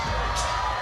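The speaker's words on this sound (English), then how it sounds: "Great effort from the boys cheering on the girls as they try and chase down a national title" Men's volleyball team cheering loudly from the stands at the Utah Valley vs UCLA women's national championship match, a brief dense wash of crowd noise and shouting.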